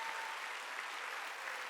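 Church congregation clapping together during a Wednesday worship service, a steady, dense wash of applause that stays even throughout, slightly distant and filling the room.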